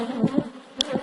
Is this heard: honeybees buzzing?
yes